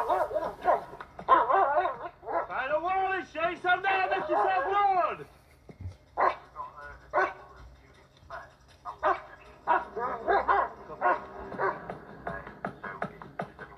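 A German Shepherd police dog barks and yips in short bursts under loud, close talk from officers and a handler at a police scene.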